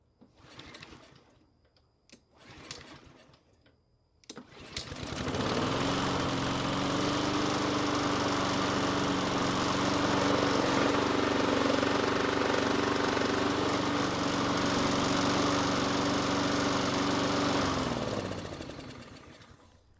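A free self-propelled lawn mower engine, with a slight noise while running, starts after a few short sputters and then runs as a steady, close, even drone for about thirteen seconds before cutting off.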